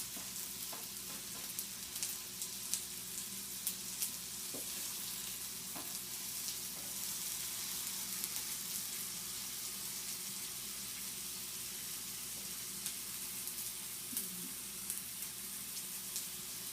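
Bacon frying in a pan, a quiet, steady hiss of sizzling fat with occasional faint pops and clinks, continuous and without speech.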